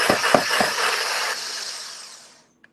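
Whisk beating cream by hand for panettone-stuffed French toast, a rapid steady whirring scrape with a few sharp knocks near the start, close and fairly loud, fading out near the end.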